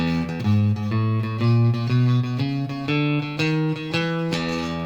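Bass guitar playing a blues turnaround line, a sequence of distinct sustained plucked notes stepping in pitch at an even pace, clean and close, with no talking.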